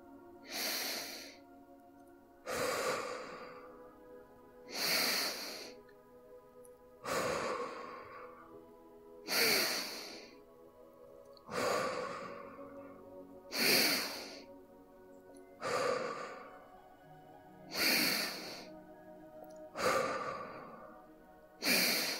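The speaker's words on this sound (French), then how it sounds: "Votre respiration est bien plus rapide qu'auparavant." Deep, rapid breathing during a guided meditation: about ten loud, airy inhale-exhale cycles in a steady rhythm, each roughly two seconds apart, close and alone with no talking.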